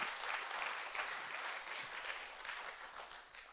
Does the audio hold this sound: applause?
yes